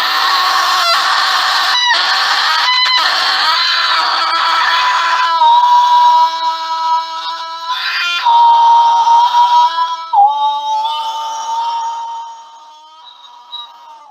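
Extended vocal scream performance, a loud, sustained, harsh, high-pitched scream with rough textures, shifting pitch and brief breaks, fading quieter near the end, with no other voices.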